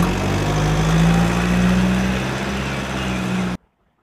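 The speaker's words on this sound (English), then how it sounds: "Garbage truck." A garbage truck engine idles close by, a steady low droning rumble with a constant hum that runs loud and even, then stops suddenly.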